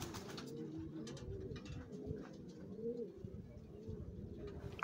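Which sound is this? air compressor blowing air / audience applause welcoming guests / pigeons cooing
pigeons cooing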